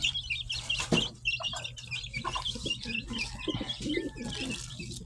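Chicks and pigeons feed on scattered crumbles, with high peeping chirps and soft pigeon coos mixed with light pecking and shuffling, close and moderately quiet.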